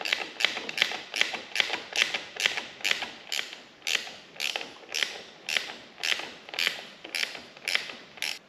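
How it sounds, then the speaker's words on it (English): A ratcheting wrench tightens 10 mm bolts on hand guards of a late-model Polaris Sportsman ATV, giving a steady run of about fifteen rhythmic ratchet clicks with each stroke, close and clear with no talking. "So we're just going to go ahead and use our ratcheting wrench here."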